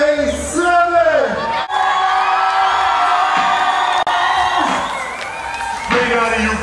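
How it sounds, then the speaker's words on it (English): A concert crowd waiting for the performer cheers, whoops and shouts loudly, with high excited yells rising and falling in a dense, continuous roar, punctuated by individual shrieks. "The crowd is bananas."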